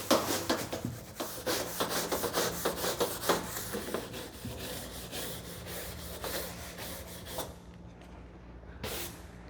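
A scrub brush works soapy water across a harvesting table, giving repeated close, rhythmic scratchy rubbing strokes that slow and thin out toward the end, with no voices.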